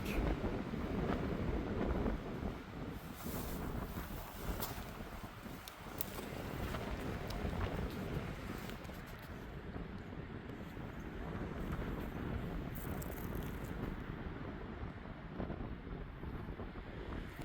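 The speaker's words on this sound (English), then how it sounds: "Hope you can hear me with the wind blowing." Strong wind blowing across a high mountain trail in the Wind River Range near Elkhart Park, buffeting the microphone in loud, rumbling gusts that swell and ease over a continuous roar.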